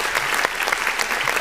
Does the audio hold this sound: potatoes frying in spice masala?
no